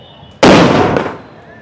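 A single loud firecracker bang goes off outside the Sudarshan cinema during a fan celebration, close by and sharp, then trails off in a brief rumbling decay.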